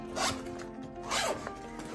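The zipper on a Fjallraven Kanken backpack is pulled open in two quick, close rasping strokes, each a bright zip followed by a pause and faint rubbing of fabric.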